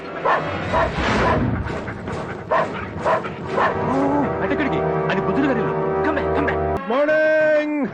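Dogs bark and yip in bursts, mixed with talking voices, then a sustained high whine or howl closes the clip.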